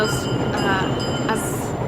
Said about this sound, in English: Oh, there's the train again.